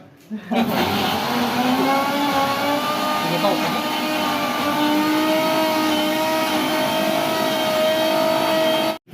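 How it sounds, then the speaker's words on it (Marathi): An electric mixer grinder runs during a mutton party at a home. It gives a loud, steady motor whine that starts abruptly and holds for about eight seconds before cutting off. "मिक्सर लावतोय आता"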